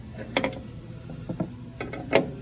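A wrench handle is worked back and forth on a bolt that cannot be reached with a socket, giving a few close, sharp metallic clicks and ratcheting ticks spread over a couple of seconds.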